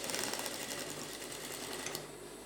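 A sewing machine runs steadily, stitching the side seam of a woman's trousers, a close, continuous fast mechanical whir that stops abruptly near the end.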